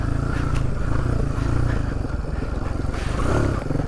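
A small Suzuki DR 350 enduro motorcycle engine idles nearby with a rapid, throbbing putter, swelling slightly in loudness now and then.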